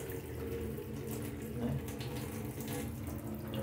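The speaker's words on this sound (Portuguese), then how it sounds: "Torneira bacana aí, ó. Feita com cano PVC." Water runs steadily from a homemade PVC pipe faucet in a continuous gushing stream, moderately close and unbroken throughout.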